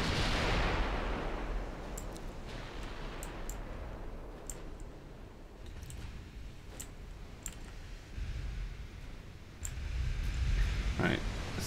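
Main guns of a warship boom in a naval video game, heavy rumbling blasts layered under constant loud battle noise, with sharp clicks and a voice talking over the action.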